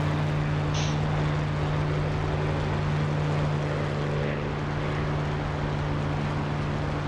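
Spitfire MkIX piston engine idling steadily as the fighter taxis in the DCS flight simulator, a loud, constant propeller drone with a strong low hum throughout, no voices.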